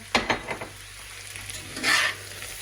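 New potatoes frying in butter with garlic scapes in a pan, stirred with a few scraping strokes early on, then a brief louder burst of sizzling, close by and without talk.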